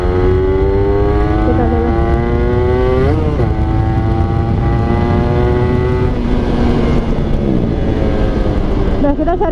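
A Honda NSR 150 SP two-stroke motorcycle revs loudly and continuously on a test ride, its engine pitch climbing and dropping through gear changes at close range, with brief speech from the rider over it.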